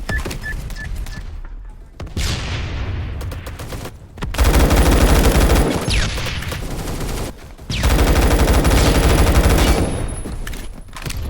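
Loud bursts of rapid G36K assault rifle fire in a video game, coming in long sustained volleys separated by brief pauses, with no talking.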